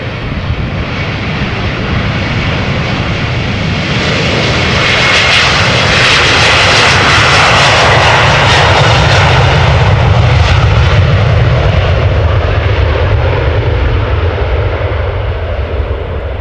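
Delta Airlines Airbus A330, an older model, departing at Amsterdam Schiphol with loud jet engines, a powerful sustained roar that swells to a peak mid-way and then slowly eases off, heard alone without voices.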